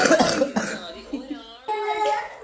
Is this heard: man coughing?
yes